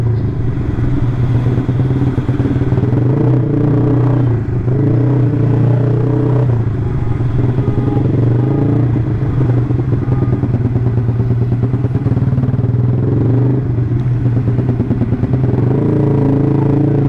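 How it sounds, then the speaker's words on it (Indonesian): Busy street traffic at Center Point of Indonesia, with motorcycles including a Yamaha R6 passing close by, engines rumbling and revving continuously, with clattering road noise and no clear voices. "Ternyata padat juga kendaraan dari sini ya."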